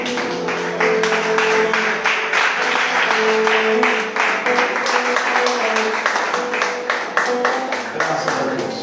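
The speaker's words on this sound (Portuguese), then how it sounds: "Pode se assentar em nome de Jesus, dando uma linda salva de palmas ao Senhor Jesus." A church congregation claps and applauds during a Holy Communion service, a steady dense round of applause lasting the whole stretch, fairly close and even in loudness, with some voices mixed in.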